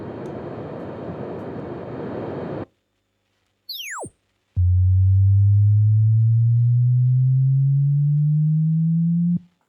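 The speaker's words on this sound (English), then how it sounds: "we'll hear some test tones coming through the speaker" Calibration test tones from a Boss Katana 500 bass amp cabinet: a burst of noise, then a falling electronic sweep and a loud, steady tone gliding slowly upward, each test signal separated by brief silences.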